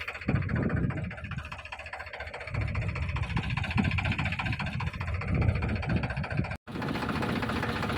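A tractor engine idles steadily in pond water beside a farm field, with a low, rumbling chug throughout, briefly cutting out for a moment before resuming.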